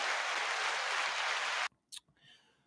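A crowd's round of applause fills the space with dense, steady clapping for over a second and a half, then cuts off abruptly, leaving only a few faint clicks and noises.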